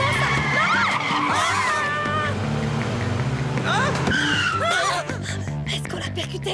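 A cartoon car accelerating hard with squealing tyres and a revving engine under music and sound effects, loud and close, with a sudden drop after five seconds.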